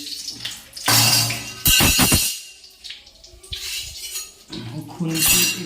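A metal spatula scrapes and clatters against a cooking pan while stirring in five-spice seeds, giving several sharp bursts of clinking separated by quieter gaps.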